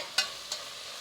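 Washed mutton frying in a pan for a curry, a soft sizzle with two brief stirring scrapes, quiet and close with no talking.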